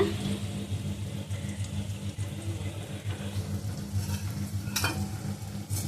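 Onions frying in butter for noodles, a steady low sizzle with soft stirring, close and even throughout, one brief brighter scrape near the end; no talking.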